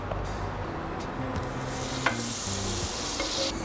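Roti canai frying in a pan over low heat, giving a steady soft sizzle with light stirring or scraping noises and one brief clack, with no voices.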